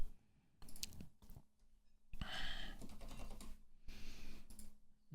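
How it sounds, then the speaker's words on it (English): Someone types on a computer keyboard in uneven bursts of close clicking with short pauses between, with no talking. "I don't have to keep typing it every time."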